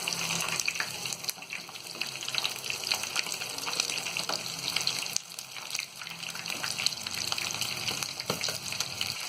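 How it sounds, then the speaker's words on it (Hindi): Chicken drumsticks (leg pieces) for stuffed tangdi kebab fry over high heat in a pan, a dense, steady sizzle with crackling spatters and occasional turning clinks, close and continuous with no talk. "इस तरह हम पलट कर इन सारे लेग पीस को इस तरह फ्राई कर लेंगे"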